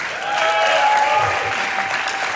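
Steady clapping from a theater audience at a songwriters-in-the-round concert at the Rialto Theater, swelling slightly and holding as a dense, even roar of hands.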